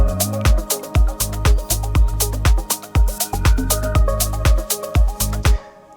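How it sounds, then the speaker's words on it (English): Kick drum and sub bass from an electronic dance track pound in a fast, even four-on-the-floor groove, loud and close. Crisp high percussion ticks along on top, and everything cuts off abruptly at the end. "if I don't have it, I would only have the kick and the sub bass."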